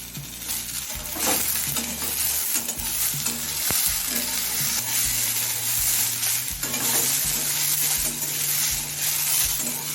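Malabar spinach stems, potato and onion are fried in a pan over medium heat, giving a loud, continuous close sizzle broken by repeated scraping and clinking of the spatula as it stirs.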